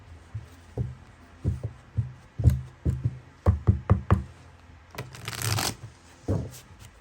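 Tarot cards being shuffled by hand, a series of close, crisp riffling bursts and soft taps in quick irregular rhythm, with a longer dense riffle near the end; no talking.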